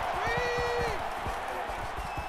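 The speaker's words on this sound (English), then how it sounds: "the crowd is always into it here" A stadium crowd in the NCAA 14 college football game, South Carolina at Alabama, keeps up a steady roar throughout, with a commentator talking over it.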